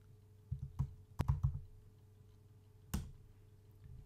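Keys on a computer keyboard are pressed in short bursts, a few soft clicks then a quick cluster and a final single tap, close and quiet over a faint hum, as a command is typed on a Linux system.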